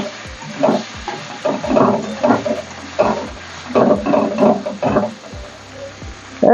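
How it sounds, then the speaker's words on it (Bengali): Boiled, drained banana flower is stirred in a pan, the spatula scraping in repeated strokes over a soft sizzle and a faint background hum. "এবার আমি এই মোচাটা যেটা সিদ্ধ করে জল ঝরিয়ে রেখেছিলাম এটা আমি দিয়ে দেবো। দিয়ে ভালো করে একটু নাড়িয়ে নিতে হবে।"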